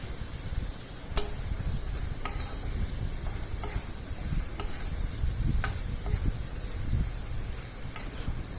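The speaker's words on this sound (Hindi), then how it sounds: "अब इस तेल में मैं जो ये आलू काटे थे मैंने पतले पतले से, वो आलू डाल दिए हैं। इनको भी फ्राई करना है।" Thinly sliced potatoes fry in oil for vegetable poha, a low continuous sizzle and rumble with scattered sharp ticks of utensil taps through the clip, close and with no talking.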